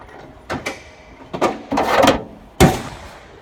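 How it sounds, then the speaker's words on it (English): A tool drawer in a field service truck slides open with several clattering mechanical bumps and rattles, ending in one sharper knock, loud and close with no talking. "On to the next drawer."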